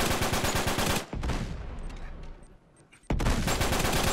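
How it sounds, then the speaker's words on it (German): Bursts of enemy gunfire in Uncharted 3 rattle loudly and densely through most of the stretch, easing into scattered shots in a quieter gap before the rapid firing resumes at full intensity. "Ach, da sitzt er mit seiner, was auch immer, Waffe und schießt."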